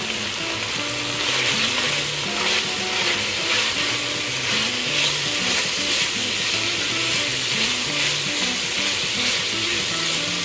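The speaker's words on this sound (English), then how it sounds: "bacon, cooking" Bacon rendering its fat in a pan gives a steady, close sizzle that runs unbroken for the whole stretch, with a faint tonal hum underneath.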